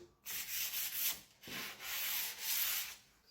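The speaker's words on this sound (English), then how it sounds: "pass over it with a little bit of sandpaper just to sand the end grain of the plywood" Sandpaper is rubbed by hand over the end grain of plywood, producing several close, raspy back-and-forth strokes with brief pauses between them.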